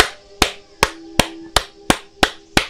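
Hands clap seven times in an even, steady rhythm, each clap sharp and close, with a faint tone sustained underneath.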